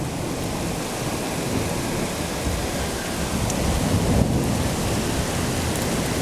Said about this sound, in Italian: ecco il tuono che ribomba